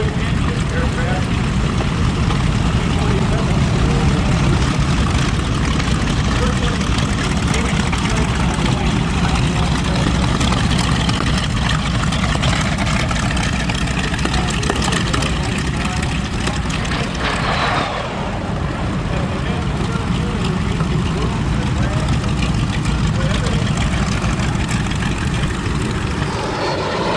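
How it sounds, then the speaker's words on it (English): A twin-engine aircraft roars past at the EAA AirVenture Oshkosh air show, a loud, sustained engine and propeller drone that swells slightly as it passes, with an announcer talking over it. "And now the twin engine aircraft."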